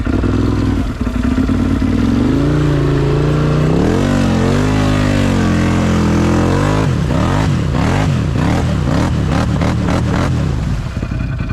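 A built Can-Am off-road vehicle stuck in thick mud revs hard and close, its engine rising and falling in repeated surging bursts, then pulsing rhythmically as the wheels spin.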